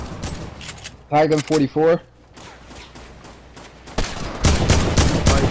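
Gunfire in Fortnite: a few sharp shots early, then a dense burst of rapid, loud fire near the end, with a voice talking in between.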